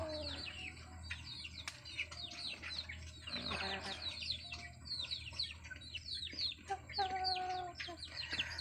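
Chickens cluck and chatter continuously nearby alongside pigs and a dog, a busy mix of short calls and chirps over a low steady background rumble.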